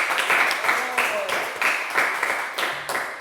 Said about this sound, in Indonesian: Oke, beri tepuk tangan untuk kelompok 4.